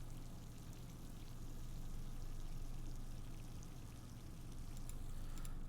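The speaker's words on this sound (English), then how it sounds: "The sound of flowing water is always so relaxing" Water flows steadily in the Nancy Drew game Ghost of Thornton Hall, a continuous pouring, rushing wash of even loudness that runs throughout without pause or voices.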